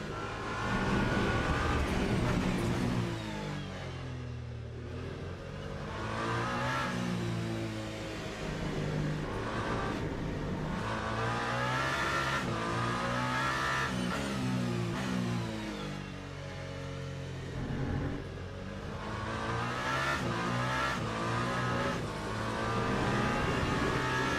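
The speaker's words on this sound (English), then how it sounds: "I feel like the rubber scraping on the track." Racing car engine in a racing video game set at Le Mans, a loud continuous drone rising and falling through gear changes, with tires scraping on the track, steady throughout with no talking.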